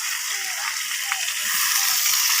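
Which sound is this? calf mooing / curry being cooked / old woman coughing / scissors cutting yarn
curry being cooked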